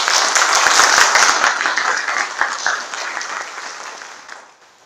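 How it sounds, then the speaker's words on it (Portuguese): An audience applauds at a business lecture from the 2016 Abrafiltro series, with dense, steady clapping that holds loud and full, then thins and fades out toward the end. "Uma salva de palmas."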